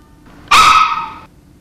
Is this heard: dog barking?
yes